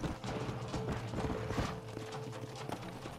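A horse gallops in the video game Red Dead Redemption, rapid rhythmic hoofbeats close by with a brief whinny, continuous over low game ambience.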